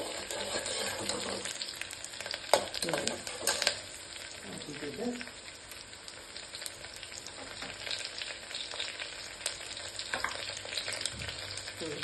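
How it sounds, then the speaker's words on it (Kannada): Chopped onions fry in a hot pan for a vegetable pulao, a steady close sizzle broken by scraping stirs and a few clinks, with no talking. "ನೋಡಿ, ಈ ಥರ ಫ್ರೈ ಮಾಡ್ಕೋಬೇಕು. ಒಂಚೂರು ಕಲರ್ ಚೇಂಜ್ ಆಗ್ಬೇಕು ಈರುಳ್ಳಿದು."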